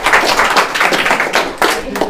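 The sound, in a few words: audience applause for the contestant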